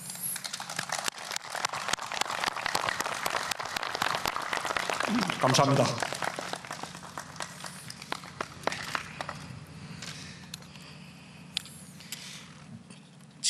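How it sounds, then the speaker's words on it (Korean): Applause and sharp clicks fill the room at the inter-Korean summit's joint announcement at Panmunjom. The crowded patter is steady at first and then thins into scattered clicks, and a voice speaks briefly in the middle. "박수를 보냅니다"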